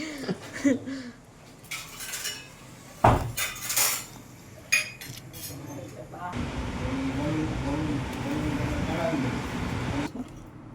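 A knife cuts red chillies on a board in sharp irregular clicks and taps, then a steady rushing hiss takes over for several seconds.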